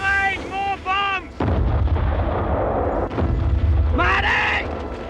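Heavy bomb blasts and artillery explosions in a World War One battle drama, deep booming bursts rolling under shouted voices and whistling tones, near and loud.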